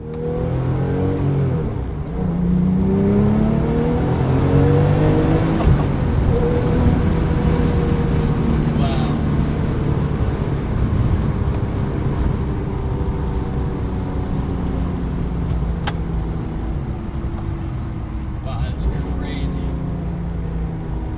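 Engine and road noise from a 2008 Porsche 911 GT2 setting off on the road, a steady close drone with a rise in revs early on, heard throughout without speech.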